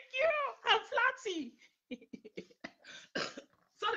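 A man coughs a few times in quick bursts up close, interspersed with his own talking, in a quiet setting.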